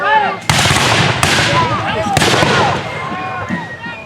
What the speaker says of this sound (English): that sound of the battle, the low rumble of black powder